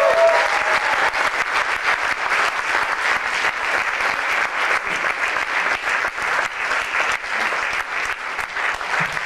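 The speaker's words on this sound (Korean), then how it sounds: "여러분 큰 박수 부탁드립니다." Applause from a concert audience in Korea, with dense, sustained clapping throughout, steady and fairly close, with no voices over it.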